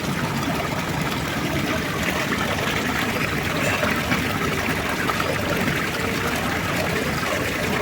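A mountain stream rushes steadily along the trail on the Kareri lake trek near Dharamshala, a constant, full broadband wash of flowing water heard up close with no breaks.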